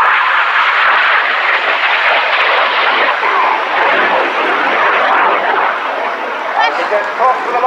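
Jets in a flying display at the 2018 RIAT Fairford air show roar overhead in a loud, continuous, broad engine rush that stays steady from start to finish.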